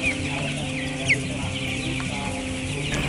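Farm chickens cluck steadily in a poultry-raising setting, with one brief louder call standing out over a constant, dense background of birds and low livestock hum.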